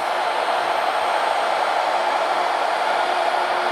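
A Shaper Origin handheld CNC router cutting wood for a tenon joint, making a steady, unbroken whining roar at close range with no talking.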